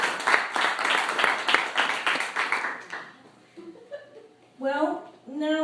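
Audience applause at a volunteer appreciation party at the Fairfield Volunteer Center, a burst of clapping for about three seconds that fades out, followed by someone speaking close to the mic.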